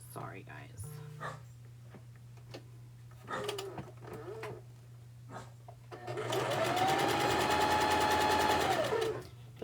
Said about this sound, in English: I already have the fabric in the machine sewing this together